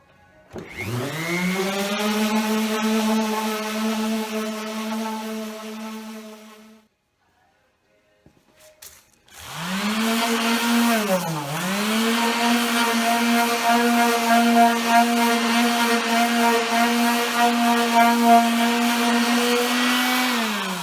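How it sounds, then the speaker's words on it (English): A Ryobi orbital sander sanding wood runs with a steady buzzing whine, stops for a couple of seconds, then starts up again and runs loudly to the end. "This is a Ryobi orbital sander."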